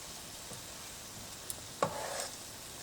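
Thin butternut squash frittata batter frying in very hot oil, a steady soft sizzle with a few brief clicks and one louder burst of crackle near the end, close and quiet, no talking.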